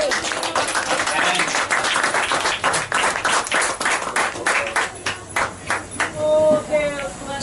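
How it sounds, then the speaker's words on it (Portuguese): A church congregation claps in rhythmic, distinct beats, fairly close and loud, before the clapping gives way to a voice speaking near the end. "E o povo de Deus aplaude a Jesus"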